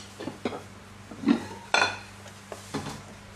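A large Japanese ceramic pot with a floral pattern, about 27 cm across, is lifted and set down, giving several short clinks and knocks of porcelain. The sounds are close and moderately loud, with a brief ringing contact near the middle.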